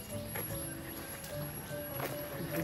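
Horse hooves clip-clop at a slow walking pace on a village road in northern Thailand, moderately close, mixed with outdoor background noise and a faint tonal hum.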